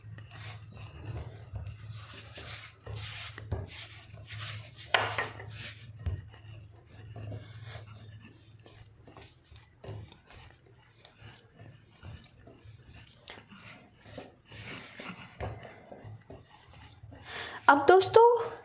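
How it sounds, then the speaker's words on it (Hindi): Oats biscuit dough with a little baking powder being mixed in a bowl: soft, intermittent rubbing and scraping strokes at close range, ending in a brief louder clatter. "और इसे भी अच्छी तरह से मिक्स कर लेंगे।"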